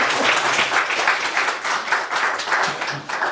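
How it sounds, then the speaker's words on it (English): An audience claps warmly for a 96-year-old woman being introduced to share memories, a dense, fairly loud burst of applause that carries on steadily without any talk. "Let's give her a round of applause."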